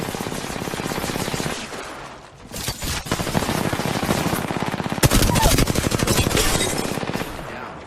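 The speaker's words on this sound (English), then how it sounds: "The enemies are shooting." Rapid automatic weapon fire in the battle royale game Apex Legends, dense and loud bursts of gunfire continuing almost without pause, with a short dip before the shooting resumes even harder.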